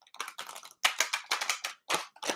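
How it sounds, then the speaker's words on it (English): Oversized oracle cards being shuffled by hand, a rapid series of crisp papery flutters and riffles in short bursts with brief pauses, close and fairly quiet with no talking. "So I'm going to give it a shuffle up here"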